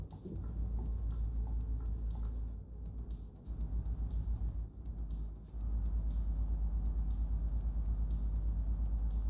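Scania truck engine heard from inside the cab in Euro Truck Simulator 2, a steady low rumble that dips and surges with throttle changes, continuous and fairly close throughout.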